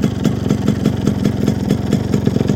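A Yamaha RX-G two-stroke motorcycle with an Indian carburettor idles nearby, a steady rapid popping putter with a regular beat and no talking.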